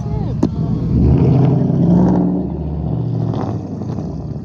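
A straight-piped Lexus V8 rolls past at low speed with a loud, deep rumbling exhaust drone that swells and then fades, while people talk nearby.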